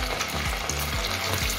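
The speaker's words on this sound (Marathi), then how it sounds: "ही तळण्याची कढई आहे माझी, यातच मी सगळं तळण करत असते." Chicken popcorn fries in oil in a deep frying pan, giving a continuous close crackling sizzle with a faint rhythmic stirring thump repeating about every half second.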